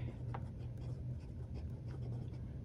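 Soft scratching of an Esterbrook fountain pen with an extra fine nib drawing swirls of ink swatches on paper, faint and continuous close up, with a low steady hum beneath.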